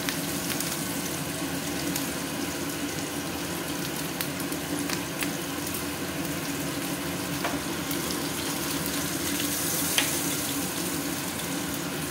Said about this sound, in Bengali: এটাকে একটু ভাজা ভাজা করবো।